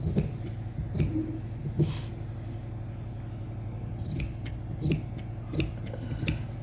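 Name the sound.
scissors cutting excess pashmina suit fabric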